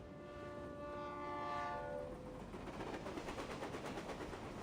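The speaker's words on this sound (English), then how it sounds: "And why is the stupid train never on time?" A train passing, a horn sounding in sustained tones at first, then fading into rumbling rail noise and rhythmic clatter of wheels, fairly distant and quiet.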